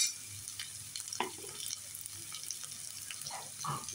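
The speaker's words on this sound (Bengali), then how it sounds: "মশলাটা একটু ভালো করে ভেজে নেব।" Ginger-garlic paste with chili and turmeric powder frying in a pan for rohu fish bhuna, a soft continuous sizzle broken by occasional scraping stirs, fairly quiet and close.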